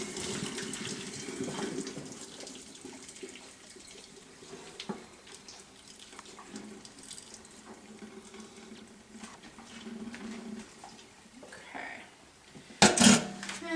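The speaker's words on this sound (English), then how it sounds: "drain the water." Boiled potatoes being drained, water pouring and splashing steadily at close range for most of the stretch, with a sharper burst near the end and a voice talking faintly underneath.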